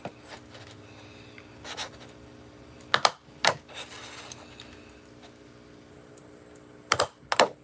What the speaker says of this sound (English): if you have a hole puncher, you want to just punch some holes